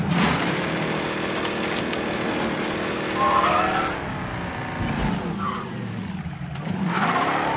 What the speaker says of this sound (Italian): Un'auto, come promesso.